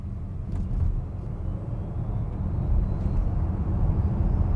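Volkswagen ID.5 GTX all-wheel-drive electric SUV accelerating hard to 100 km/h, heard from inside as a steady low road and motor rumble that swells slightly, with faint rattles of loose luggage and no talk.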